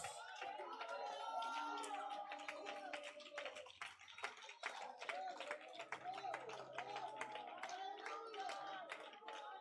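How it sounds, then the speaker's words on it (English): A church congregation clapping during a Sunday worship service, a brisk run of sharp, rhythmic hand claps from many people mixed with voices, loud and close, with a brief dip in the middle before the clapping picks up again. "clap your hands, oh ye people, and shout with the voice of triumph"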